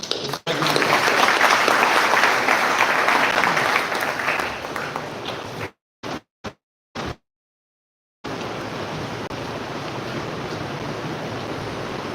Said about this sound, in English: let's invite Chief Engineer Sajant with a quick applause